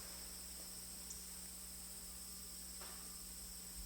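Faint, steady cicada buzzing drones in the background over a quiet hum, with occasional soft clicks and no voices.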